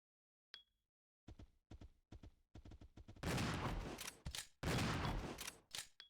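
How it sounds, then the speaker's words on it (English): Shotgun blasts ring out in the Resident Evil 0 survival horror game. Sharp isolated shots and footsteps are followed by two long, loud, roaring blasts, with quieter thuds in between. "What about the next shotgun blast, though?"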